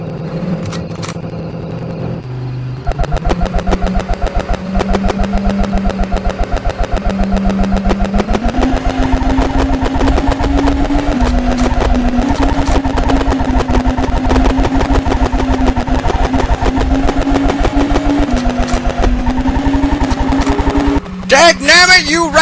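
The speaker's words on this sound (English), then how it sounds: "How do you confuse a shotgun sound with the sound of an engine?" Harsh, crackling engine drone from a car in the racing game Circuit Chung, sounding oddly like rapid gunfire, runs loud and steady for about twenty seconds with pitch steps as it climbs, then a burst of clatter at the end.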